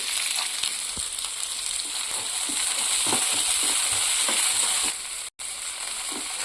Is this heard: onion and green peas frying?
yes